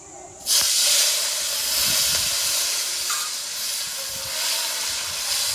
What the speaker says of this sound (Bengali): এবার ফোড়নে দিয়ে দেবো দুটো তেজপাতা, দুটো শুকনো লঙ্কা, কটা গোটা জিরে